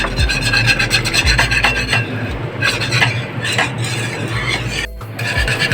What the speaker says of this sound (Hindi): पानी में ही डालना है और आपने घुमाते रहना है ताकि इसमें लम्स ना बने।